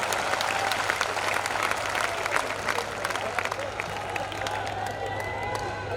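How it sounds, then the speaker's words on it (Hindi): Steady, dense applause from a live audience at a Hindi comedy poetry show, continuous and fairly loud throughout, with some crowd noise mixed in. "जब तक सारे ताली नहीं बजाओगे पूरा नंबर नहीं बताने वाला"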